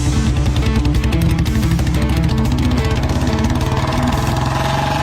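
Motorbike engines run steadily and loudly with a low droning hum and a buzzy mid-range note, holding close and constant throughout with no talking.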